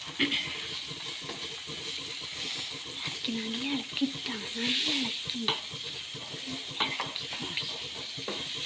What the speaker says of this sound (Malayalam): മുട്ട ആഡ് ചെയ്ത് ഇനി നമുക്കിതൊന്ന് മിക്സ് ചെയ്യാം